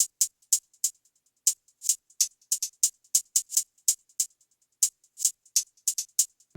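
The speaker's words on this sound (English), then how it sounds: "Pretty typical new jazz hi-hat pattern." A fairly simple new jazz hi-hat pattern programmed in FL Studio, crisp ticks and short rolls in an uneven rhythm with a light delay trailing some hits, heard alone and clear.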